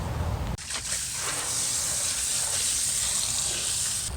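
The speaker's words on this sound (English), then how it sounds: "we're going to grab our hose and we're going to rinse around the bottom" Garden hose water sprays steadily around the base of an outdoor AC condenser unit, a loud continuous hiss that starts abruptly after a brief moment and then runs evenly, with no talking.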